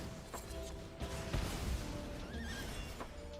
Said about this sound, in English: The horse is whinnying.